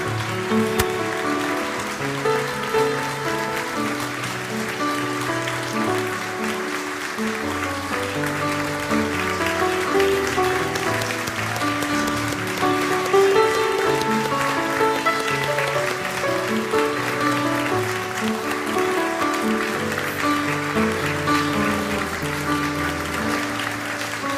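A church congregation at a new-members completion ceremony applauds long and steadily as gifts and bouquets are presented, dense, even clapping throughout with faint voices underneath.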